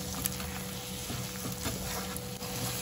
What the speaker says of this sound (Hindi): तो अदरक लहसुन के पेस्ट भी हल्का सा भून गया है।